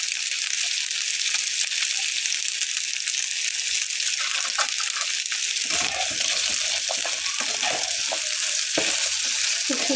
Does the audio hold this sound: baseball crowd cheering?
no